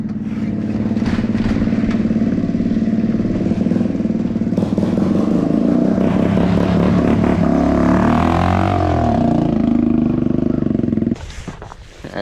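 Two dirt bikes, a 250 Big Red and a 185S, ride on a frozen pond. Their engines roar loud and close, rising and falling as they rev and accelerate, before cutting briefly at the end.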